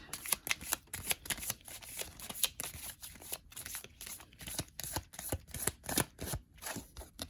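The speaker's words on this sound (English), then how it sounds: "Let's do last shuffle here." Tarot cards are shuffled by hand in quick repeated riffles and slides. The bursts come close and crisp in an uneven rhythm, with no voice.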